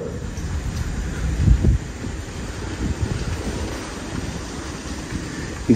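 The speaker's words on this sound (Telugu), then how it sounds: "ఈ గాలి ఇట్లా వస్తుంది" Wind blowing at night around a supposedly haunted hostel in Andhra Pradesh, a low rumbling buffet on the microphone with gusts swelling and easing, loud and close, with no talk.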